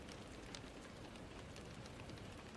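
Steady rain falls in a continuous, even hiss with soft patter, close and moderately loud, with no voices over it.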